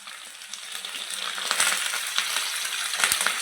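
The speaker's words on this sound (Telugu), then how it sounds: "ఈ ఆవాలు జీలకర్ర పచ్చిమిర్చి వేసినప్పుడు వచ్చే సౌండ్స్ చూడు కదా" Mustard seeds, cumin and green chilies sizzle in hot oil as a tempering for poha, a close crackling hiss with scattered sharp pops that grows louder over a few seconds.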